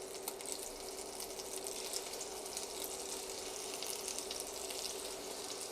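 Scallops sear in a hot pan with a continuous bright sizzle and crackle, faint and even, no voices.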